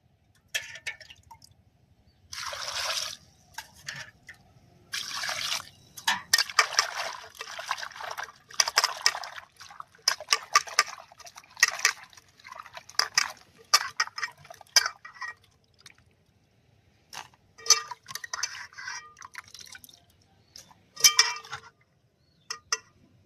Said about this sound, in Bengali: এবার আমি 2-3 বার জল পাল্টে পাল্টে ধুয়ে নেব।